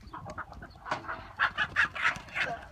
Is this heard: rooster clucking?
yes